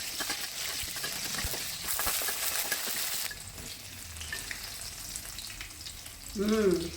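Dried chilies fry in oil in a wok on a home gas stove for fried rice, with steady crackling sizzle and a few stirring scrapes, louder in the first half and easing off before a brief closing clatter.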